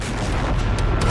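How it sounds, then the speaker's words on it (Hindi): A loud, close, low rumbling blast fills the moment, dense and sustained like the roar of a big explosion during a Hamas attack on an Israeli Merkava tank, with no voices. "चंद सेकंड के बाद होता है बड़ा धमाका।"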